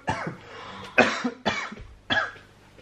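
Four harsh, close coughs come one after another from a man who swallowed something the wrong way, each a sharp burst with short gaps between.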